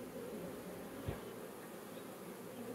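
A soft, continuous buzzing of many honeybees around a newly introduced virgin queen, steady and low-level throughout, with a faint bump of handling noise partway.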